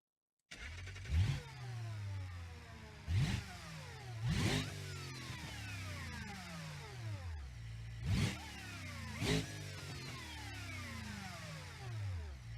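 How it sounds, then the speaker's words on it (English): A supercharged cop car engine in BeamNG.drive revving repeatedly, with five or six sharp throttle blips rising and falling over a steady idle drone, close and fairly quiet, no talking. "The supercharger sounds cool."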